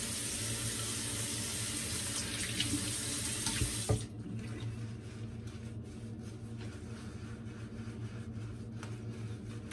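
Tap water runs into a shaving scuttle in a steady rush. About four seconds in, the bright spray sound cuts off and a softer, lower trickling continues nearby.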